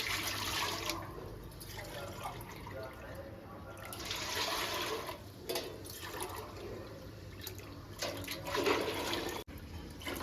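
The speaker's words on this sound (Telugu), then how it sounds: "ఇప్పుడు ఆరు పోసుకోవాలి నీళ్ళు" Water poured into a pot on the stove for chicken dum biryani, a steady splashing, filling rush that runs through most of the stretch at moderate loudness, with faint kitchen noise and occasional voices in the background.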